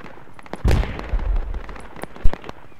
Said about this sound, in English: Definitely good mortar hit.